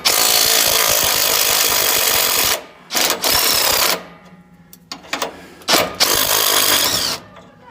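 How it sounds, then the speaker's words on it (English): A battery-powered impact wrench removes an 18mm nut: loud, close, rapid hammering buzz in long bursts, broken by short pauses and several quick trigger pulses before a final sustained run. "I basically have a little impact wrench or gun, whatever you want to call it, battery up powered."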